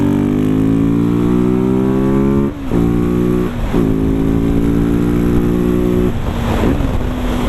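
Husqvarna 701 supermoto motorcycle ridden on a winding road, its single engine loud and close, pulling up through the revs in rising sweeps with brief dips at gear changes, alone without talk.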